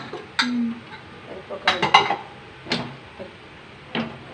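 Cooked lentils scraped and tipped into a clay pot, with a few clinks and knocks of a utensil against the rim, spaced out and fairly close, with brief voices.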